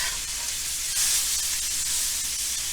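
Beef chuck roll underblade steaks sear in a pan with butter, a steady loud sizzle and hiss with faint crackles throughout.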